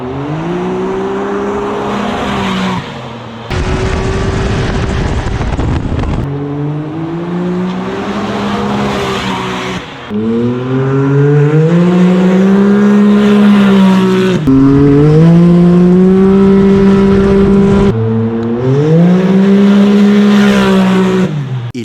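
Can-Am X3 side-by-side with an RPM Powersports titanium E-valve exhaust makes several loud flybys, the engine note rising and falling as it revs past, with brief gaps and a burst of broadband roar in between.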